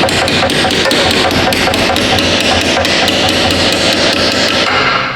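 Steady, rapid hammer blows drive a pin through a rear coil spring mount on a Dodge Charger, loud close metallic strikes in an even rhythm for about five seconds.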